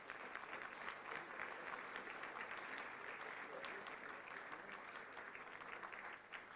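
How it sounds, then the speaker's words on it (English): Applause from a forum audience for policymakers, a steady wash of clapping, fairly faint and distant throughout. "let's give a big round of applause to our policymakers"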